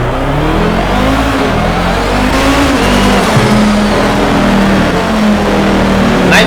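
A car in the racing game Need for Speed Shift 2, driven with a G29 steering wheel, accelerates with a loud, steady engine drone whose revs rise and fall throughout. No one speaks.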